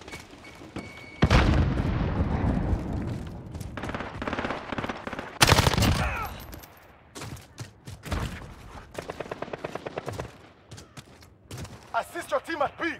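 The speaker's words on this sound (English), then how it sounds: "Grenade out!" Gunfire and explosions from a first-person shooter match played with a RAM-7 rifle: a loud blast near 1 s, another heavy burst around 5.5 s, then rapid rattling automatic fire and scattered shots later on, with game voice callouts mixed in.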